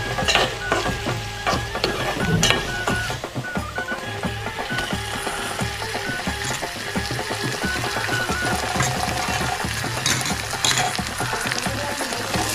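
Onions frying in oil in a hot pot for a spicy oyster masala, a dense continuous sizzle and crackle with scattered clatter of stirring, loud and close throughout with no voices.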